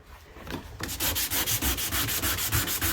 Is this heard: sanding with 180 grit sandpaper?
yes